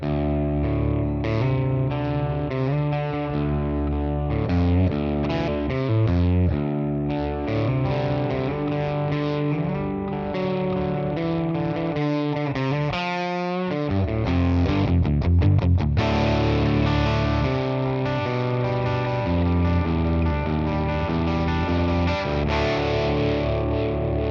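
A Les Paul electric guitar plays through a Tonex amp capture with reverb added, in drop tuning. The tone is heavily distorted, with chugging riffs and sustained chords, loud and continuous, and a short gap near the middle.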